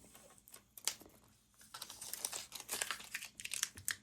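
Tape peeled off watercolor paper bookmarks crackles and rips in quick, irregular bursts, close and fairly quiet, with short pauses between pulls.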